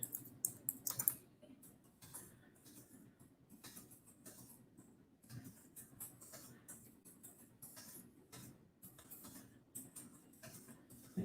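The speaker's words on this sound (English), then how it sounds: "Type the topic here." Typing on a computer keyboard, quick irregular clicks of keys in a quiet room, close and fairly soft, with a few sharper taps at the start and scattered bursts throughout.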